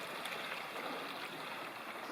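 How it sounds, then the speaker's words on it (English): Creek flowing at a trail crossing on the Sacred Rim Trail near Elkhart Park, Wyoming, a steady faint rush of water with no break. "Creek crossing on the Sacred Rim Trail."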